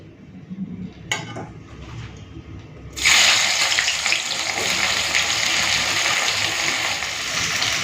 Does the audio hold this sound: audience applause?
no